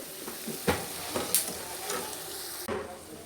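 Potato chops deep frying in hot oil give a steady close sizzle, broken by a few stirring clinks and bubbling bursts.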